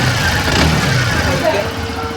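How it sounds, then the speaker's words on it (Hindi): A TVS Sport BS6 motorcycle engine running after a sound problem was fixed, a loud, close, steady mechanical hum and putter that stays even throughout. "अब इंजन की आवाज़ सुनते हैं"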